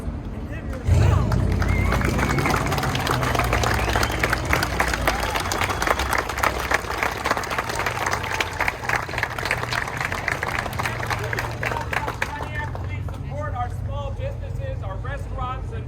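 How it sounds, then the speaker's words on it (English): A crowd at a Pontiac Fiero 40th anniversary gathering breaks into dense, continuous applause that holds for many seconds before tapering, with voices and a cheer mixed in near the end. "let's give the Fiero and everyone who made it possible a round of applause"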